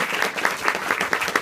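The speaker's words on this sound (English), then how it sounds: "Let's give them a round of applause." Audience applause fills a bookstore author event, steady dense clapping from a crowd throughout without any talk over it.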